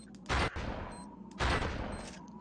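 Sniper gunfire in a video game: two sharp, loud shots about a second apart, each followed by a short echoing tail over a quiet game background.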